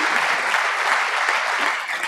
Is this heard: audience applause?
yes